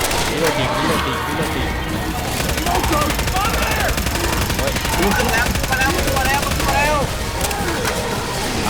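Rapid, dense gunfire rattles in the video game Left 4 Dead 2, with machine-gun bursts sustained across the clip, loud and close, while players shout over it.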